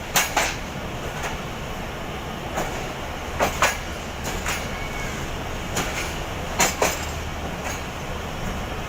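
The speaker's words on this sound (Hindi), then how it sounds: "ये गाड़ी अंदर की तरफ जा रही है प्लेटफॉर्म पे" A train pulls slowly into a station platform in Pakistan with a steady rumble, punctuated by sharp metallic clacks and squeaks at irregular intervals, fairly close.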